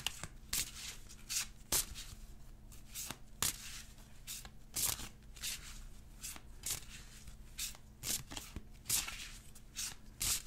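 Tarot cards shuffled by hand at close range, a repeated rhythm of crisp riffling bursts and soft slaps running steadily for about ten seconds with no talking.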